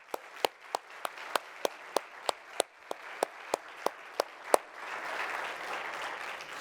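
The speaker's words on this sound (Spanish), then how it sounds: "Vamos a darle un aplauso más fuerte a nuestro Señor Jesús." A church congregation claps in a fast, even rhythm of about a dozen sharp claps, then breaks into a full wash of scattered applause.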